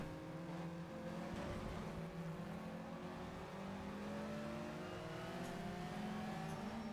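An underpowered car revving through its gears in the racing game Shift 2 Unleashed, a steady engine drone with rising pitch sweeps as it accelerates and shifts, continuous and moderately loud with no talking.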